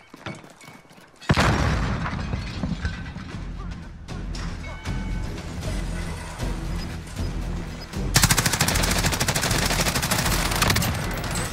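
A grenade blast and rapid gunfire in a shooter video game, starting with a loud crack followed by sustained bursts of automatic fire and booming impacts that stay dense and loud throughout, with a heavier barrage near the end.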